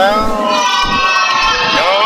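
An arena crowd at a tag-team wrestling event loudly jeers a Russian flag, a sustained wall of massed voices holding steady throughout.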